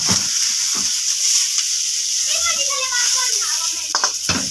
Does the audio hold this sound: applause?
no